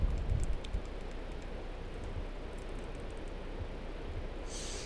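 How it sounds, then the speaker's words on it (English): Steady rain from the Minecraft video game, a continuous soft hiss of falling drops with a louder patter at the start, no voices over it. "Oh my god, rain's really annoying."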